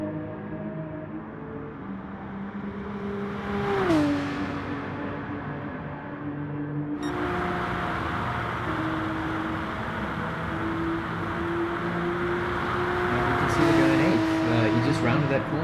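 Race car engine in GT Sport held at a steady drone down a long straight, with gear-shift pitch drops along the way; a commentator's voice runs over it throughout.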